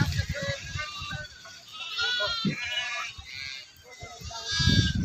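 Sheep bleat repeatedly nearby, wavering cries overlapping amid murmuring voices and farmyard bustle at a Sant Balumama temple camp near Pandharpur.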